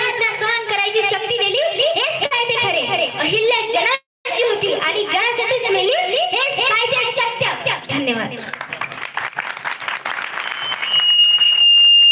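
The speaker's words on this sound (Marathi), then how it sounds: "टाळ्या वाजवायच्या असल्या तर अजून वाजवू शकतो आपण जोरात वाजवायचं" A theatre audience applauds a one-woman stage play about Ahilyabai Holkar with loud, dense, sustained clapping that briefly cuts out and then swells again.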